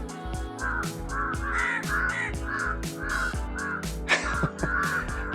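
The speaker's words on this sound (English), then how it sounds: "Why are these birds following me?" Crows cawing repeatedly in a steady series of harsh calls, close and loud, with a louder burst near the end; recorded outdoors in Sri Lanka.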